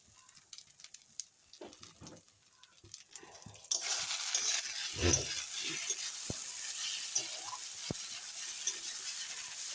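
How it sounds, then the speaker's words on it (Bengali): Spices fry and are stirred in a pan for rohu fish head curry, a steady close sizzle that swells partway through, with scattered scraping and clinks of the spoon. "সব মশলা দিয়ে এখন ভালো করে কষিয়ে নিলাম"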